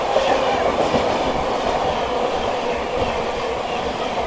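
An express passenger train, the Amaravati Express, rumbles past nearby with steady clattering wheels and a broad roar, loud and continuous throughout.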